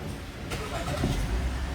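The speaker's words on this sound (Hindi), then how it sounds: "तो ये गाड़ी अभी मैंने स्टार्ट कर ली है" A 2007–08 Lexus IS 250 with an electric power steering fault starts up. There is a brief crank, then the engine catches and settles into a rumbling idle, heard close by.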